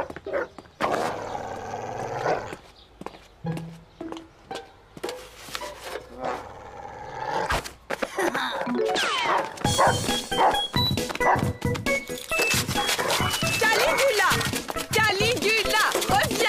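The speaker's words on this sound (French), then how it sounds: "j'ai eu l'idée d'utiliser Caligula, le chien stupide de Madame Bertrand." A cartoon dog barks in short yapping bursts, mixed with busy cartoon music and effects, with spoken voices in the opening seconds.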